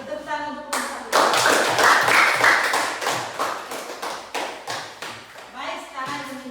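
A group claps together in a sustained burst of applause, rising quickly and then thinning out into scattered claps, with children's voices chattering around it.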